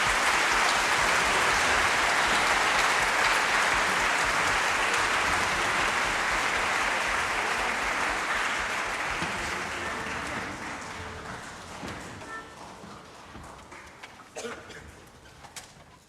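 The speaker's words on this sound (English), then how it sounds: "shall we give them a clap to welcome them to the stage?" A concert hall audience at De Montfort Hall applauds to welcome a school symphony orchestra onto the stage, a dense sustained clapping that gradually thins and fades over the final seconds.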